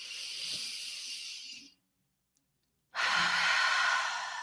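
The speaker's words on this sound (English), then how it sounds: "Let's take a nice deep breath in." A slow, deep inhalation followed by a long exhalation during a guided relaxation exercise, breathy and close, with a quiet pause between the two breaths and no talk.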